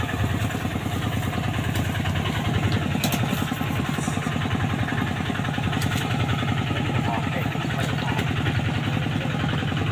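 A motorcycle rides along a rough village road, its engine droning steadily and close throughout, with rattles and clatter from the bumpy surface layered over the constant hum.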